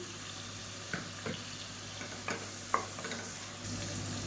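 Onion, garlic cloves and green chillies fry in hot oil with a continuous close sizzle and several light spoon-against-pan taps and scrapes spread through.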